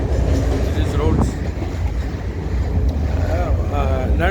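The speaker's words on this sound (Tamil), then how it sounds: "ரெண்டுக்கு நடுவில் வந்து இந்த ட்ரெயின் போயிட்டுருக்கு." A Sri Lankan electric train runs along a line between the beach and a road, giving a continuous loud rumble with wind buffeting the microphone and a voice talking over it.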